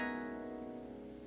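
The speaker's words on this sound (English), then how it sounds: "So your glissando would sound like this." Harp glissando, a sustained shimmer of ringing strings that lingers and slowly fades over a little more than a second, heard alone and fairly quiet.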